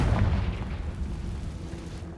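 A Confringo spell from Hogwarts Legacy bursts as a loud, booming fiery blast. The explosion is strongest at the start and then rumbles and fades over a couple of seconds.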